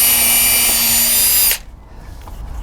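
A power drill bores into a big piece of wood while building a fence, a loud, steady, high whine that stops abruptly partway through and leaves quiet outdoor background.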